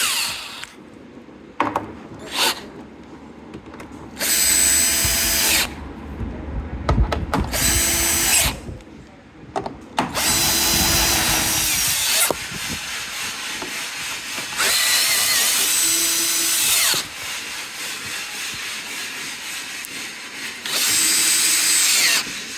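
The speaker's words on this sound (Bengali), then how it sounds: "আমাদের র্যাঙ্কিং নাট মারার কাজ চলতেছে" A power tool, likely an impact driver or drill, tightens nuts while a piece is assembled, running in repeated loud bursts of a few seconds each with short pauses and clanks in between.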